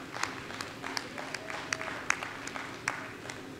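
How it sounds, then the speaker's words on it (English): An audience applauds a glassmaking demonstration team with scattered, distinct claps over a low background hum, moderately loud and somewhat sparse, with individual sharp hand claps standing out. "What do you say we start off by giving the team a big round of applause?"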